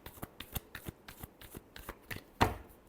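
A deck of tarot cards shuffled by hand in quick, soft riffling bursts about twice a second, ending in a firmer snap as the deck is squared, close and quiet with no voices.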